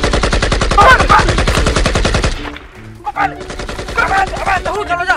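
Rapid automatic gunfire in the video game Free Fire, a dense burst of shots for about two seconds, then scattered single shots under excited shouting from players.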